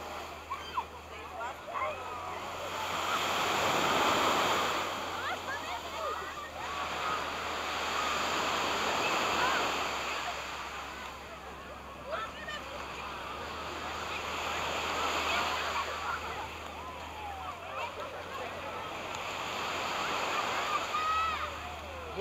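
Sea waves roll in and break on Asprovalta beach in Greece, swelling and receding in slow surges every few seconds, with a low steady hum underneath.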